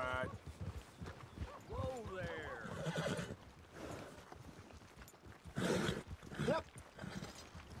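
Horse neighing angrily in Red Dead Redemption 2, a loud whinny with a wavering, descending pitch, followed by snorts and restless hoof sounds, mixed with game ambience and a voice talking in between.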